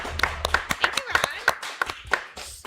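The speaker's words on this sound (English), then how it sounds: "Let's give a warm round of applause for Deb and Daisha" A small audience claps in sparse, uneven bursts at a local community fundraiser livestream, individual hand claps standing out near and fairly loud, with some voices mixed in underneath.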